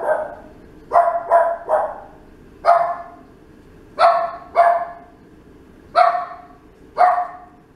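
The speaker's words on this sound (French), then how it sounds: "Ah, le chien n'est pas content encore." Indoors, a dog barks in repeated sharp, loud outbursts, singly and in quick pairs, at uneven intervals with quiet gaps between. A watercolor painter works nearby.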